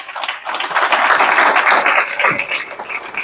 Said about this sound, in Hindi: एक बार ताली हो सकती है क्या?